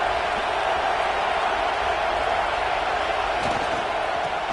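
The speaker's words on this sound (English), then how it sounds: "Here comes the noise from this big crowd in Happy Valley on 3rd down" Loud, steady roar of a large college football stadium crowd at Happy Valley on third down, a dense wash of noise that holds without letup throughout.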